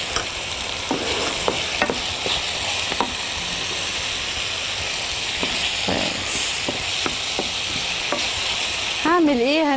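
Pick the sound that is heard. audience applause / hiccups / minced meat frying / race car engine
minced meat frying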